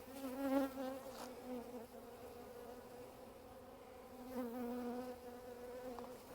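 Honeybees buzz around an opened hive as foragers bring in pollen, a steady droning hum with louder swells as individual bees pass close by the listener.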